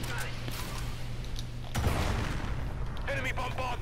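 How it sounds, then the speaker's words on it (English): Artillery bombardment in Call of Duty: Infinite Warfare rumbles as heavy, booming impacts with a sharp blast partway through, over persistent battle noise, with voices talking over it. "Enemy bombardment incoming."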